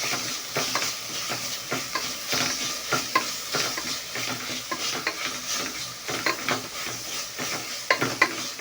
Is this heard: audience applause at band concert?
no